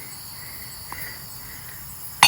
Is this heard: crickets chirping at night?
yes